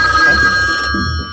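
A telephone rings loudly and close in a 1973 horror film scene. The tone is bright and electric, it sustains for about a second, and low rumbling sits beneath it.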